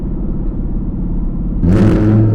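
A Lamborghini Huracan EVO engine hums steadily, then its exhaust, switched to Corsa mode, suddenly revs up loud and throaty near the end.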